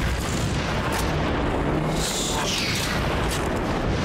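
A heavy explosion in the Haze video game: a loud, broadband rumbling blast with booming low end and crackling debris, sustained at full loudness without letup.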